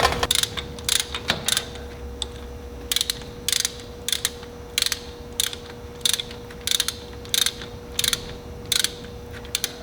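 Ratchet wrench tightening a small quarter-inch bolt: bursts of rapid clicking repeat in a steady rhythm over a constant low hum, close and fairly loud with no talk.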